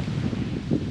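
Wind buffets an outdoor microphone in a brief, steady low rumble that covers the whole moment, with no voices.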